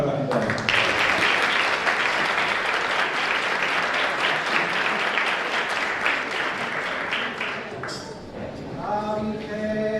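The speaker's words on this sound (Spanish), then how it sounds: "Un aplauso para la gente." A crowd applauds steadily and loudly at an Asturian Christmas carol gathering on New Year's Day, the clapping tapering near the end as a voice begins speaking.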